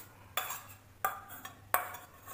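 Yogurt spooned into a bowl for bhature dough, with three distinct clinks of a metal spoon against the bowl spaced under a second apart, followed by short scraping between them, close and fairly quiet.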